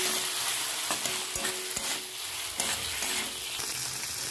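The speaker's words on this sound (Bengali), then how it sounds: "এবার আমি এই টমেটোটা আর ফুলকপিটা যে ভালো করে পেস্ট করে নিচ্ছি একটু হালকা করে, সেটা দিয়ে দেবো। একটু নেড়ে চেড়ে নেব।" A tomato and cauliflower paste fries in a pan with a steady, close sizzle, while repeated scraping strokes of a spoon stirring it come through clearly, with no voices.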